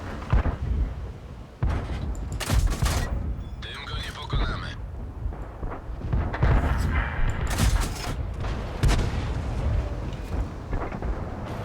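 Tank cannon fire in World of Tanks, several sharp booming shots scattered through a busy battle mix, with someone talking over much of it.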